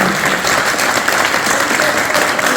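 Steady applause from a forum audience at a Laval–Guinea community event, dense and continuous for the whole stretch, with no voices rising above it.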